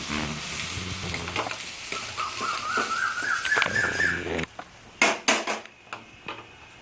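Soya beans frying in a pan for a Bengali-style dish, a steady loud sizzle with stirring scrapes that cuts off partway, followed by a few sharp clinks and knocks.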